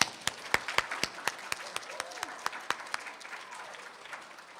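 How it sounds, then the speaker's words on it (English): A school audience claps at a Citizen of the Month assembly, sparse individual claps ringing out in a loose, uneven rhythm against a quiet room, fairly faint and thinning toward the end. "So let's have a round of applause for all of your hard work."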